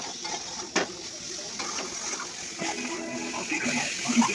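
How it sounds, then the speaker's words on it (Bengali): Soybean chunks and onion fry and get stirred in a pan, a steady soft sizzle under occasional spoon scrapes and knocks, moderately close with faint background noise. "সোয়াবিনটা কষিয়ে নিই"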